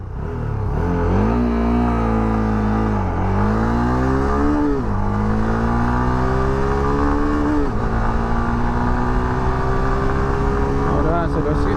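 A Honda CB 300F motorcycle engine revs up steadily and loudly through several gear changes, pitch climbing then dropping at each shift, close and continuous for the whole stretch.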